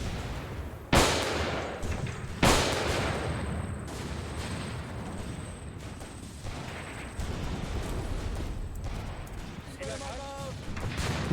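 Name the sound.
grenades and gunfire in video game Graviteam Tactics: Mius Front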